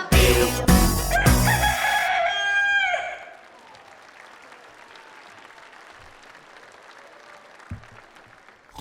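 A rooster crows loudly and close at the start of a children's song, its long harmonic call dropping off, then a quiet background with small knocks.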